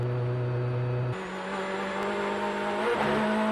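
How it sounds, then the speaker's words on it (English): Corvette Z06 GT3.R race car pulling out of its pit box with a burnout, the engine droning loudly and stepping up in pitch as it accelerates, close and continuous with no talk. "leaves a nice burnout as he exits the pit box"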